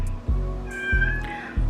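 A female cat in heat meows loudly in a drawn-out, wavering call, close by, with low thumping bumps recurring underneath.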